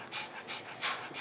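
A small pet dog pants rapidly in a steady rhythm of quick breathy puffs, close by and fairly quiet, with one louder huff near the end.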